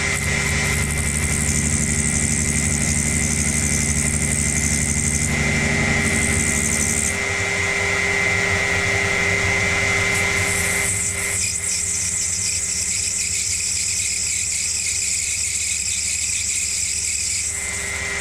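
Myford Super 7 lathe turning a small shoulder from a rear compound slide: a steady mechanical whine and motor hum throughout, with a higher squealing cutting tone that changes partway through, no talking.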